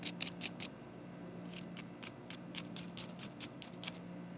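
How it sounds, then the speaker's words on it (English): Smoked, deep-fried rib tips with a crisp outer crust crunch in a few sharp, crackly bursts at first, followed by a string of lighter, fainter ticks. The sounds are quiet and close, with no voices. "just listen to this crunch on the outside"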